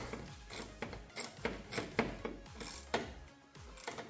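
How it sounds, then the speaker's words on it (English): A ratchet wrench turned while servicing the MAP sensor on a 2.5L GDI Kia K5, giving quick bursts of clicking pawl strokes, close and fairly quiet, with no talk. "with my ratchet"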